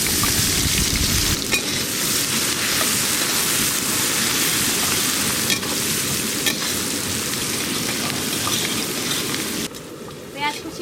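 Chopped onion sizzles loudly and steadily in hot oil tempered with bay leaf, dried chilli and cardamom for a thin chicken curry, with occasional stirring scrapes; the frying hiss runs continuously and close throughout.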